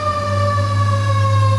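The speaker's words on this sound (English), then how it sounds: "Every time I start a segment, the fire engine comes," A fire engine siren wails loud and sustained outside, a steady tonal blare with a low engine rumble beneath it.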